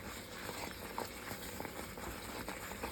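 A thick fenugreek mixture for a traditional Karkidakam medicinal preparation, with ghee added, simmers on the stove, giving off a steady close bubbling and popping texture that continues without a break and with no voices.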